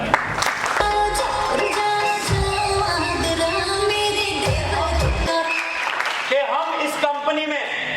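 An audience at a motivational training event in Haridwar claps loudly for a speaker, dense applause running throughout while someone speaks excitedly over it.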